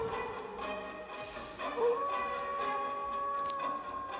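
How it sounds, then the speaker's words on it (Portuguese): A long, wavering howl drifts from inside a forest at moderate distance, rising and sustained over a low background, with a few yips around it. "E era um som de uivo"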